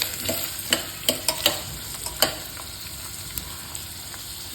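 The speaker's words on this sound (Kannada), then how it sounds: "ಎಣ್ಣೆಯಲ್ಲಿ ಇದು ಚೆನ್ನಾಗಿ ಫ್ರೈ ಆಗ್ತಿದೆಯಲ್ಲ" Mixed vegetables fry in oil for a naati-style veg biryani, with a soft constant sizzle broken by a cluster of close spatula knocks and scrapes early on.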